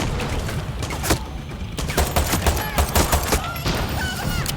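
Far Cry 6 combat with rapid bursts of gunfire and sharp blasts from a bomb explosion, dense and loud throughout the scene, with faint game voices mixed in.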